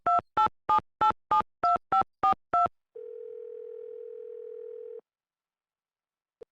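A telephone call in a Nancy Drew mystery game: eight quick, evenly spaced dialing tones, then a steady hum of dial tone for about two seconds that cuts off into silence.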